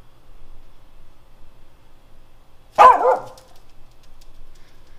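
A single sharp dog bark rings out in a quiet backyard, loud and close against a near-silent background of faint hiss.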